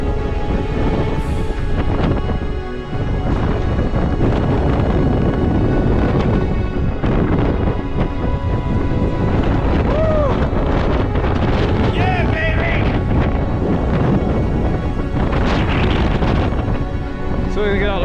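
Strong, blustery wind buffets the microphone on the summit of Wild Boar Fell near the cairn, a constant loud roar with gusty rumbling throughout.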